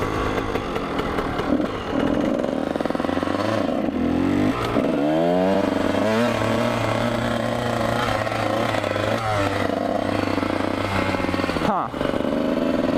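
A Kawasaki KX 125 two-stroke dirt bike roars steadily up close, revving and rising in pitch as it speeds toward a ditch jump, with a brief lull and sharp throttle blips near the end.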